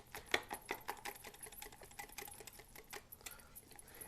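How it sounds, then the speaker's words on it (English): A whisk beating Dutch baby batter in a bowl, fast rapid ticking strokes at an even rhythm, faint and close with no talk. "So you want to whisk this till it's really, really smooth."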